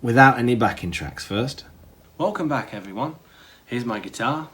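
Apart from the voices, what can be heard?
No distinct noise like a dog, phone or traffic.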